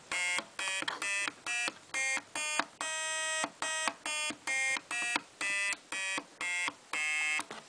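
Homemade NE555 electronic mini piano sounding buzzy square-wave tones through a small speaker, a steady run of about fifteen separate notes with short gaps between them, some held longer, clear and close with no talking.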